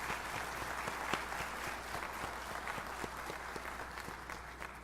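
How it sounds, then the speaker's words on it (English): Graduates at a 2023 graduation ceremony applaud themselves, a steady wash of many hands clapping with individual claps popping out. It sounds somewhat distant and soft, and it continues evenly without any voices. "I'd like you to give yourselves a round of applause"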